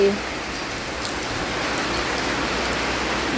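Heavy rain pours down steadily, a dense, continuous hiss of drops on surfaces that stays loud and even throughout, with no voices heard.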